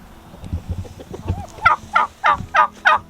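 Several loud turkey gobbles in a regular run, each a short rattling burst, following softer low clucks and bird noises nearby.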